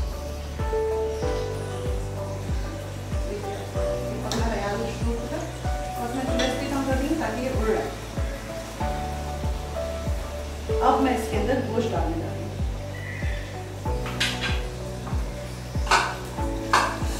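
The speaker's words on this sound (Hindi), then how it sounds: "इसको और भी भून सकते हैं" Bottle gourd and meat sautéing in a pot, with a steady sizzle under repeated stirring scrapes and clinks of a spoon against the metal, while someone talks over it.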